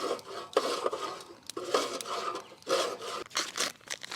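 Rough wooden scraping over a barbecue grill grate, cleaning off residue from the previous night's cook, comes in repeated rasping strokes with short pauses, fairly close and moderately loud, with no talking.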